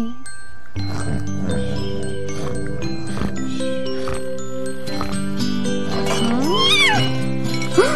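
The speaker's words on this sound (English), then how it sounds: "Meow, meow, that is how I call." A cartoon cat in Disney's Discover Spot meows several times, with rising and falling cries toward the end, over tinkling bell-like music and soft sustained tones.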